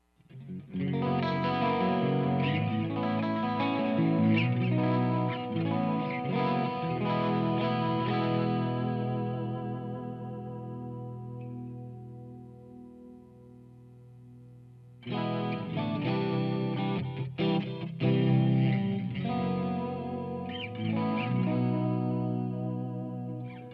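Electric guitar through a Marshall JVM410H head on its orange channel, clean with chorus and delay, playing sustained chords and notes with a shimmering, echoing tail, a quieter pause near the middle, then fuller strumming resumes; no talking.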